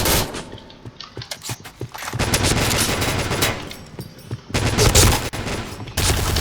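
Rapid gunfire in the Point Blank video game on a battleship stage comes in dense bursts of automatic shots, loud and sustained with brief pauses between volleys.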